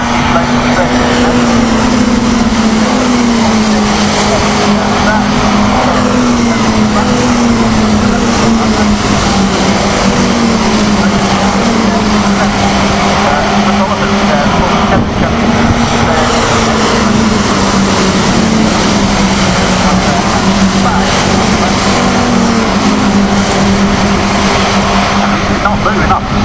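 Caterham Seven 310R race cars at Castle Combe circuit roar past in a continuous loud engine drone that rises and falls as they pass, with a commentator talking over it throughout.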